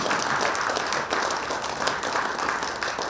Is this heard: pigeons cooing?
no